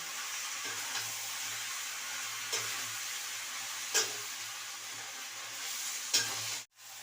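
A faint, steady sizzle of fish chorchori frying dry in a pan, with a few soft scraping stirs standing out now and then before a sudden cutoff near the end.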